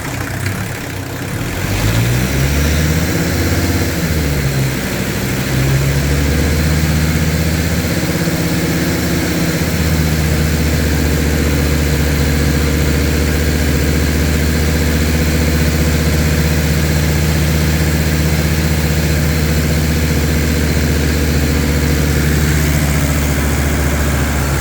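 A Mercedes parts car with shot turbo seals idles steadily for a long stretch after a brief rev at the start, a loud, continuous low engine hum with no talking.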